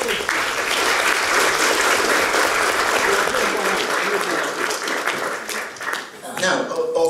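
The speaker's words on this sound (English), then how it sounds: "Round of applause, please, for Jeff" At a Muppets and puppets event, an audience claps warmly for Jeff, a full, steady round of applause that thins out near the end, where voices and scattered cheers come through.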